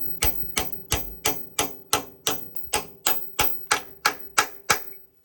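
Fitting a new bush onto the shaft of a 1962 dozer: about fourteen evenly spaced, sharp metallic hammer taps, close and moderately loud, each decaying quickly before the next, with no talking.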